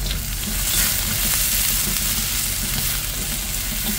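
Baguio beans stir-frying in hot oil for a dish with Indonesian chicken beans, giving a steady, close, loud sizzle and crackle that holds without pause, with no talking.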